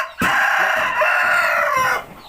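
A rooster crows once, a loud close call that starts sharply and holds for about two seconds before cutting off, with no talk over it, on a cattle farm.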